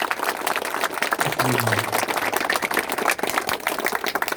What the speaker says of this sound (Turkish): Alkışlar gelsin Azerbaycan ordusunun şerefine.